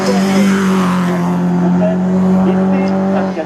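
A race car climbs the Hébécrevon hill climb course at a 2015 national event, its engine a steady, loud, harmonic drone held throughout while a commentator talks over it.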